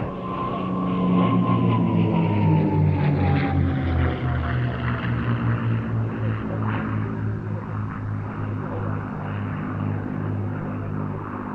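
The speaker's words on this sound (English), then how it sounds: "from your left once again, ladies and gentlemen, as Sally B touches down, B-51 Mustangs" P-51 Mustang piston-engine fighters fly past at the IWM Duxford Battle of Britain airshow, a loud, steady propeller drone whose pitch slides lower as the planes pass, holding strong for the whole stretch.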